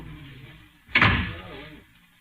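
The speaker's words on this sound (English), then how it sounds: "Close the door, Crow" A door swung shut in a radio drama scene, one solid close with a thud and brief rattle, fairly near against a quiet background.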